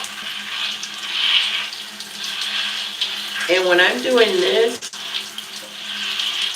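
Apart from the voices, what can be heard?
water running from a shower head rinsing hair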